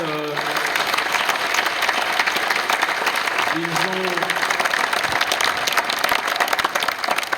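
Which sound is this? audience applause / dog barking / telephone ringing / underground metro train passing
audience applause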